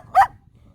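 A pet dog lets out one short, sharp bark indoors, close and fairly loud, followed by quiet.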